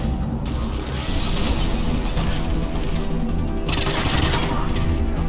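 Continuous rapid gunfire in a firefight in the video game Mass Effect 3, a dense loud rattle of weapons and mechanical clatter with bursts swelling and easing throughout, close and unbroken.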